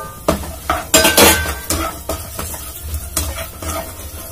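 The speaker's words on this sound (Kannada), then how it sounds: "ಈಗ ಇದಕ್ಕೆ ನಾನು ಒಣ ದ್ರಾಕ್ಷಿ ಏನ್ ತಗೊಂಡಿದ್ದೀನೋ ಅದನ್ನ ಮಿಕ್ಸ್ ಮಾಡ್ಕೊಳ್ತಾ ಇದೀನಿ." Raisins frying in ghee in a pan are stirred with a utensil, giving loud repeated scraping and clinking strokes over a steady low sizzle, with no voices.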